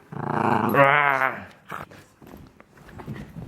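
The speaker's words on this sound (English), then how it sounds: "Look at this doggy." A dog gives a close, low growl, followed by quieter rustling and faint movement.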